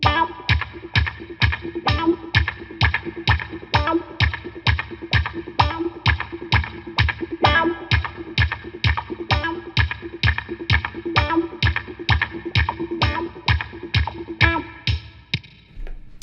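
Electric guitar plays steady, rhythmic muted strums with a rocking wah filter sweep, repeating evenly at a quick funky pulse throughout.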